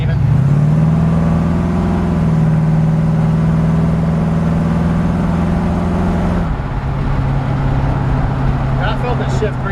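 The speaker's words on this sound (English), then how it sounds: "Give it a little gas, Steven." A 350 small-block Chevy Vortec V8 in a 1941 Ford truck runs loud and close with a steady low drone and a rising rev, then drops abruptly to a rougher idle rumble.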